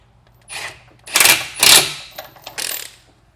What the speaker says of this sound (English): now we'll lock this collar in with the set screws